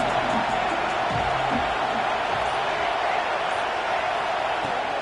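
A football stadium crowd roars steadily behind the defense on a big third down, a dense, continuous wall of cheering and noise with speech-like babble mixed throughout.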